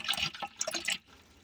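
Water splashes and gurgles from a village water pipe in Meru County, Kenya, an uneven, faint spattering flow that fades toward the end.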